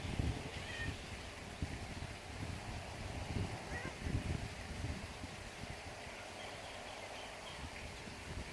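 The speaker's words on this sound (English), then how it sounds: "This is my kitty, Indy." Indy, a pet cat, meows several times, soft and fairly faint, over steady low room noise with no one speaking.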